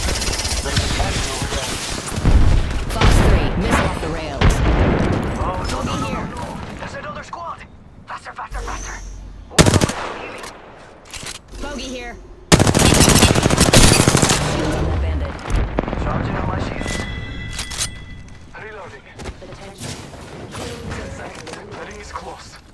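Rapid automatic gunfire in the first-person shooter Apex Legends, dense loud bursts with sudden sharp volleys and mechanical clatter throughout a long stretch, mixed with game effects and players talking over it.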